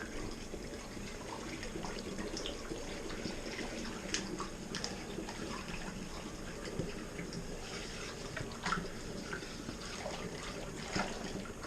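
Spring water pours from a jug into a Merlot wine kit, a continuous splashing trickle held at moderate level for several seconds, with a few small clinks and no talk.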